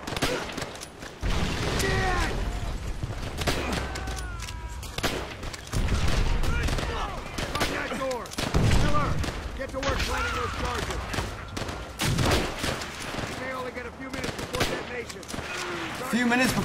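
Bursts of gunfire from the video game Call of Duty: World at War come in repeated volleys of rapid shots. Someone talks between and over the shooting.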